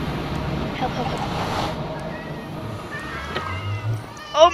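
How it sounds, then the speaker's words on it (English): Minecraft cats meow in short bursts amid a wash of water and wind noise, a sharper meow rising near the end. "Oh my god, there's so many cats."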